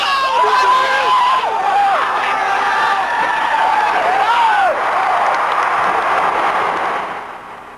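A stadium crowd before a football game roars with continuous cheering and scattered whoops. Shrill whistles cut through the din, and the noise fades toward the end.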